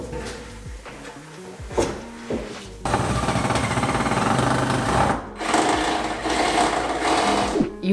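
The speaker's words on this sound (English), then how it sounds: "I'm just screwing and gluing them together" A power driver runs screws through 2x4 boards into the bottom of a thrifted dresser being turned into a workbench, with a steady whirring motor held for several seconds and brief pauses and clatter between runs.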